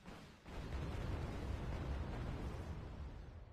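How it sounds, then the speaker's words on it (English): Cruise missiles detonating in the real-time strategy game Wargame: Red Dragon, a loud sustained rumbling blast that swells after a brief quiet start and rolls on heavily, with no voices. "Oh, we got cruise missiles coming in."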